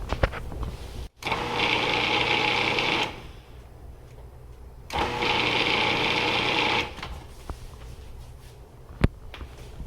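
A food processor mixes butter and flour for biscuit dough in two steady whirring bursts, each about two seconds long, separated by a pause and ending with a few light clicks.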